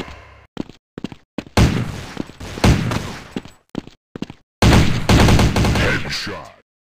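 Gunshots ring out in the Critical Strike Force mobile shooter, fired in short bursts and single cracks with brief gaps, then a longer sustained volley near the end, loud and close with no talk.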